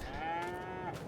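A single cow in the Farming Simulator 22 game lets out a clear, drawn-out moo, close and fairly quiet, heard on its own with no voices.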